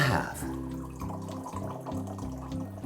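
Aguardiente poured into a Canchánchara cocktail glass, a steady close liquid trickle and gurgle lasting a few seconds, fairly quiet, with no voice over it.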